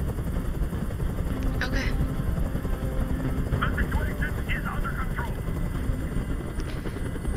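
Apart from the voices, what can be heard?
helicopter hovering in video game Detroit Become Human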